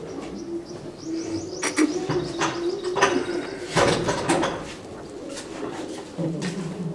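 Large, heavy-bodied Rajnala pigeons coo in a low, repeated murmur, with scattered brighter chirps and soft clicks, close by and fairly steady.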